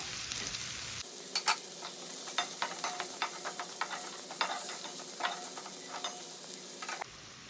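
Onion and garlic sizzle steadily in a hot pan, with scraping stirs and crackles scattered throughout.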